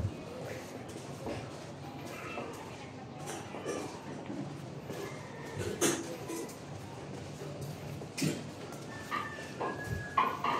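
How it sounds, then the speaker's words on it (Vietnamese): A dog barks and yips intermittently in a quiet residential street of a Thanh Da apartment block area at midday, with faint street noise around it. "Nuôi chó mà không nhốt nó trong nhà, thả nó ra giữa đường, nó gặp người lạ thì nghiêng cái nó sủa."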